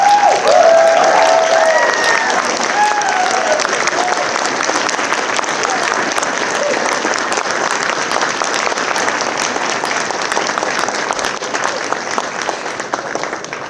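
Sustained applause from a large audience at a university law school hooding ceremony, a dense even wash of clapping lasting the whole stretch with a faint voice briefly audible early on.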